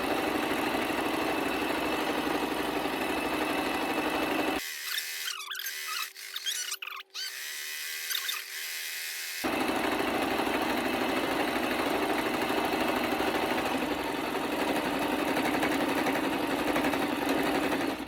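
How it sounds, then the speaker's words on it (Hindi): Sewing machine running a second line of stitching along a shalwar seam for an overlock-like finish, a loud continuous mechanical whir that stops for several seconds of brief handling noises, then resumes. "दूसरी सिलाई जो है मैं थोड़ा बाहर से लगा रही हूँ ताकि एक ओवरलॉक जैसा भी इसमें वो आ जाए"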